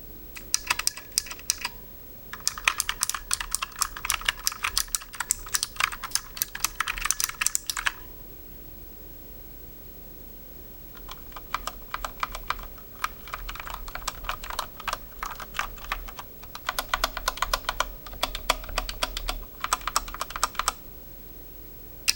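A Razer Huntsman Mini keyboard with clicky switches is typed on in quick, crisp bursts of sharp clicks, separated by short pauses, close and clear with no talking.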